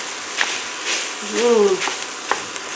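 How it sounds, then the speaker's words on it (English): Ground meat browning in a soup pot with carrot, celery and onions, giving a steady close sizzle with a few stirring scrapes, while a voice speaks briefly over it. "Cook it down with the carrot, celery, and onions."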